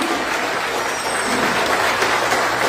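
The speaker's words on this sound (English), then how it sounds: "Give a round of applause" An audience at an Emancipation Day celebration in Moruga breaks into applause, a dense, steady wash of clapping that stays loud and even for the whole stretch.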